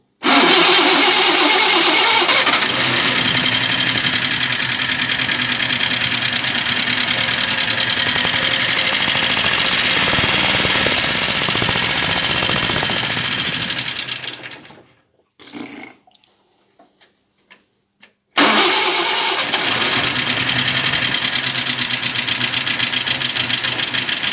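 A 1946 Talbot 10 convertible engine starting and running, a loud close continuous mechanical roar that cuts out briefly with a few sputters, then catches and runs strongly again.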